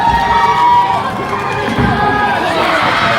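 A professional wrestling crowd cheers loudly and steadily at a live show, a dense roar of voices filling the arena without a break.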